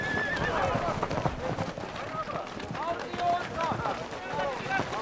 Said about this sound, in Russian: С такими упрямыми животными непростая задача направить каждую лошадь через нужные ворота в ее загон.